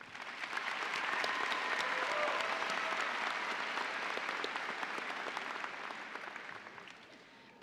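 A crowd at a high school graduation claps steadily, a broad wash of applause that swells and then gradually thins out toward the end, heard from some distance.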